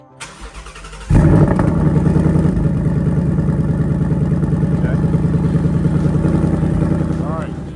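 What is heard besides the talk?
car engine exhaust starting and idling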